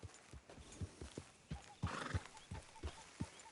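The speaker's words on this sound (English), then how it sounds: "Why is my freaking horse so agitated?" Agitated horse in Red Dead Redemption 2 whinnying and snorting while hooves clop in a steady, close rhythm over ground.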